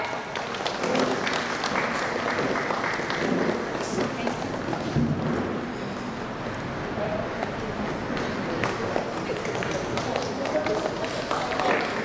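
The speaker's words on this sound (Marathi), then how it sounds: "टाळ्या।" An audience at a women's gathering in a church applauds continuously, a dense, even wash of clapping that lasts the whole stretch, with voices murmuring beneath it.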